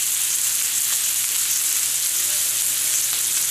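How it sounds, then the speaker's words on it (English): Onions sizzle steadily in a hot pan while pineapple fried rice is being cooked, a continuous close, even frying hiss with no one talking. "So I'm just going to put the onions in."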